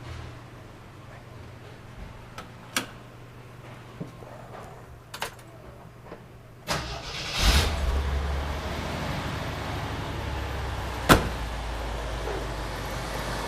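An upgraded Jeep 4.2-liter 258 inline-six engine runs with a low, steady idle, then grows louder and rougher partway through, with a few sharp clicks and knocks on top.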